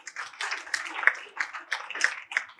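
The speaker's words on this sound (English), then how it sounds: "Give a round of applause to all of them." Audience applause at a speech event honoring the speaker's family, a steady wash of clapping from a crowd lasting a few seconds with no voices over it.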